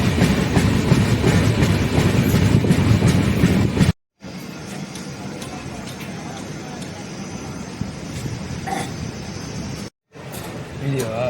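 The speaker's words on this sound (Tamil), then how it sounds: "நாம பூதலூர் ரயில் நிலையத்தை விட்டு புறப்பட்டு விட்டோம்." Cholan Express train pulling out of Budalur station between Trichy and Thanjavur, heard from on board as a steady, loud carriage rumble with wheel clatter and two brief dropouts.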